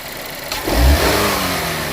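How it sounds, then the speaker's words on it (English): A car engine idles, then surges into a loud rev as the throttle is snapped open during a MAP sensor test, the roar peaking briefly and holding steady near the microphone. "I'm going to open the throttle. I'm going to snap the throttle."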